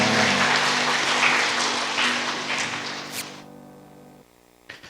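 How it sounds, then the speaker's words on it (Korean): A church congregation at a Sunday evening worship service gives a round of applause. It starts full and loud, thins gradually, and dies away after a few seconds, leaving a quiet, humming room. "우리 하나님께 영광의 박수 올려드리도록 하겠습니다."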